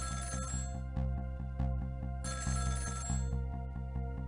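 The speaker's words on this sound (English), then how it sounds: "the phone rang." An electronic phone in the video game Ghost Trick rings in repeated bursts with a synthetic, game-like tone over a steady low musical hum, no voices.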